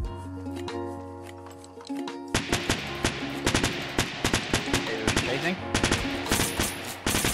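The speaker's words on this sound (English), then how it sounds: "There's people shooting me." Rapid gunfire bursts in the Fortnite battle royale, loud and close, with a dense run of shots starting after a quiet opening and continuing in quick irregular volleys while players talk over it.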